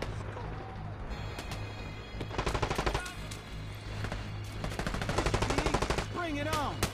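Bursts of automatic gunfire ring out in The Division Resurgence, rapid rattling volleys close by, broken by short gaps, with voices calling out between the shots.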